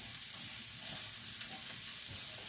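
Red onions sizzle and fry steadily in a hot pan, a continuous close crackle with faint stirring, no voices.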